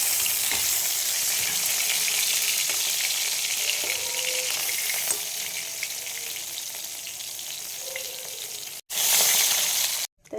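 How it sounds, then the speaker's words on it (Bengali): Pieces of fish fry in hot oil, a loud constant sizzle for most of the stretch, broken near the end by a short gap, a brief louder burst and another pause. "দেখো মাছগুলো ভাজা হয়ে গেছে"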